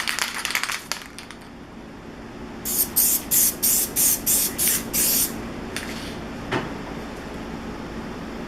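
A can of 384 fast tack adhesive for screen printing sprays in a row of about seven short, loud hissing bursts, followed by a couple of fainter puffs, with no one speaking.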